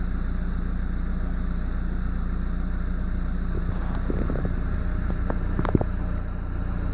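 An Audi A6 C5 1.9 TDI diesel engine idling at normal operating temperature after a thermostat replacement, a steady low hum with a few light clicks and knocks near the middle, heard alone.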